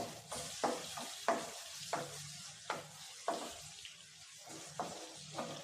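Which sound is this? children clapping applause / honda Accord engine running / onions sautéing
onions sautéing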